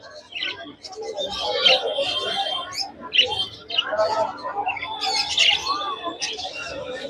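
Small finches and Bengalese finches chirp and tweet busily at a pet market bird stall, many overlapping high calls, with background chatter and market noise underneath.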